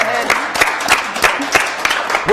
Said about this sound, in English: Round of applause for Veronica on that one.